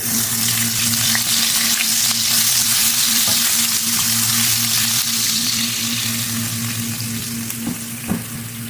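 Ginger frying in a pan for a sweet and sour Spanish mackerel dish, a steady loud sizzle with low hum underneath, fading slightly toward the end with a brief clink near the close.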